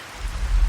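Steady rain falls in an even, continuous hiss with a soft low rumble underneath, brief and fairly close, with no voices.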